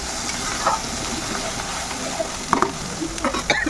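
A paste of onion and green chili fries in hot oil for a katla fish dish. A steady sizzling hiss is broken by a few sharp stirring scrapes and clicks near the end.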